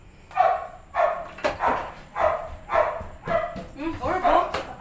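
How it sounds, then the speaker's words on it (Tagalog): A dog barks repeatedly at night in a residential compound, about eight to ten sharp barks at a steady rhythm, close and loud, ending in a rapid flurry of yips. "Nag-ingay na yung aso."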